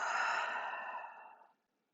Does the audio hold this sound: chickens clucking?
no